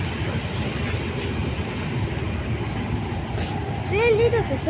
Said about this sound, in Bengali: আর ওই যে নিচ দিয়ে এখন ট্রেন যাচ্ছে